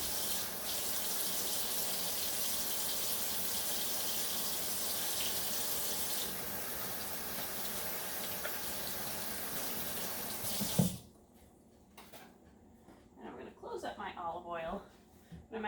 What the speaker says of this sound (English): I'm gonna wash my hands really good.